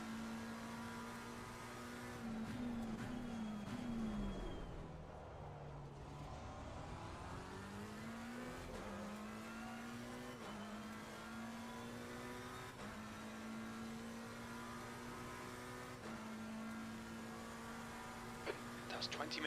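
Race car engine in Assetto Corsa Competizione at Spa Francorchamps, revving up and down through gear changes, dipping under braking into a chicane and climbing again, steady and close, with someone talking over it.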